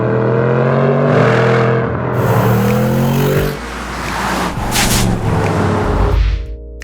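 A 2022 Bentley Bentayga S's 4-litre twin-turbo V8 and exhaust drone loudly and continuously, the pitch climbing as it revs, then dipping briefly before pulling again.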